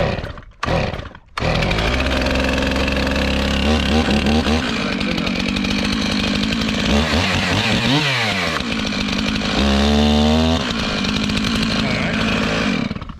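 A chainsaw pulls over after a short stutter, then runs in a loud, continuous buzzing roar. Its pitch surges and falls several times as the throttle is revved.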